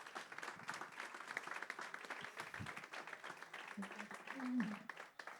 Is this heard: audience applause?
yes